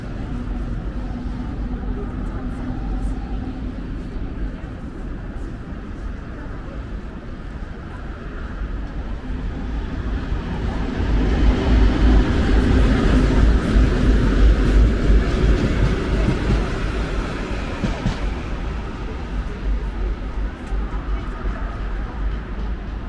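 Two coupled Lastochka electric trains running on a Moscow railway at Rostokino station, a steady rumbling roll with rail clatter that swells louder midway as the train passes close, then eases.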